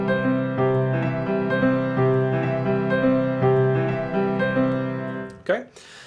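A 3 over 4 polyrhythm played on a sustained pitched instrument, layered tones pulsing in interlocking groupings for several seconds before a brief clatter at the end.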